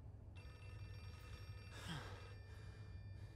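A faint telephone ringing inside the horror video game Outlast 2, a thin electronic ring over a low steady background hum, with a brief breathy sound partway through.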